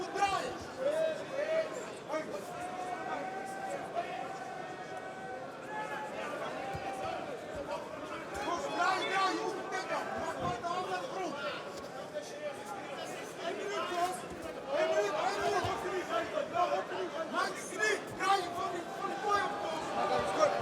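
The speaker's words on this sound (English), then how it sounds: "The crowd getting a bit restless here." A restless crowd murmurs and stirs throughout a Bellator MMA fight, a steady distant hubbub with scattered shouts under continuous commentary.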